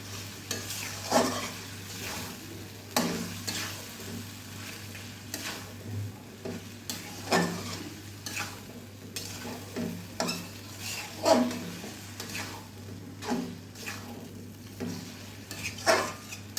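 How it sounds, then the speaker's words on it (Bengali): Beef with spices being stirred in a pot with a steady low sizzle underneath and repeated scraping strokes of the spoon against the metal, moderately close and fairly quiet, with no one speaking. "দিয়ে এটাকে সুন্দর করে নেড়ে চেড়ে আমি ঢেকে দেবো।"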